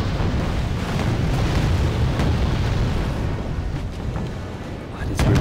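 Artillery shells pound tanks on a muddy battlefield in Wargame Red Dragon, producing a steady, loud rolling rumble of blasts with a sharper burst near the end.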